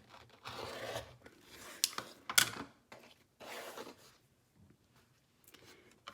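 A quilted fabric block, a quarter-square triangle unit, is trimmed along its sides with a few short, close scraping and cutting strokes and dull knocks, with no talking.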